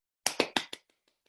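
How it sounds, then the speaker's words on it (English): A handful of sharp claps for a reader at a small virtual noir reading night, four distinct near hits in quick succession, then a few faint scattered taps trailing off into silence. "please everyone give Isaac a huge round of applause"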